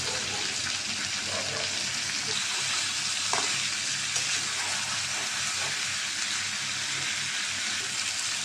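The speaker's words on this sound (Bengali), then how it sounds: "মশলাটা কষানো হয়েছে আমি এর সাথে গোজ দিয়ে দিলাম তা একটু কষাই নেব" Chicken with spice masala stir-fried in a pan for a potato chicken curry, giving a steady, close, continuous sizzle and crackle with faint stirring scrapes throughout.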